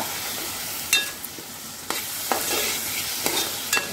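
Chopped onion and tomato sautéed over a low flame in a pan for a dried green peas curry, with a continuous sizzle broken by several sharp spatula scrapes and clinks against the metal.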